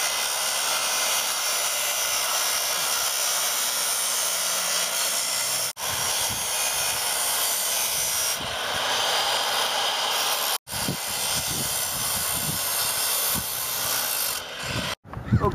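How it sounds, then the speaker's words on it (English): A circular saw fitted with a masonry blade grinds a groove into a brick chimney, a continuous loud, rough whine held for long stretches and broken by a few brief cut-offs. "it is kind of dangerous to use the saws with masonry blades to cut the groove in here"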